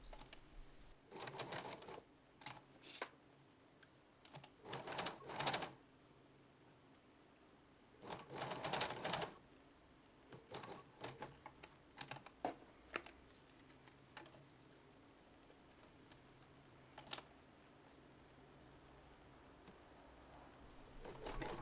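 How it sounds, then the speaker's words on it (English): A sewing machine stitches down the side splits of a T-shirt being downsized, running in short bursts of rapid mechanical whirring separated by quiet pauses, close by with no talking. "now all I'm doing is stitching the splits down"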